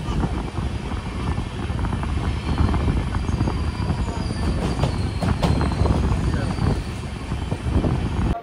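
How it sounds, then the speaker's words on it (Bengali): Howrah-Radhikapur Kulik Express pulling into Bardhaman Junction, a loud continuous rumble of rolling railcars with clattering wheels and faint squeals, heard from on board throughout. "হাওড়া রাধিকাপুর কুলিক এক্সপ্রেস হচ্ছে ঢুকলো হচ্ছে বর্ধমান জাংশনে 11টার সময়"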